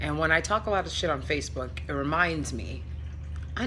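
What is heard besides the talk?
No everyday noise stands out behind the speech.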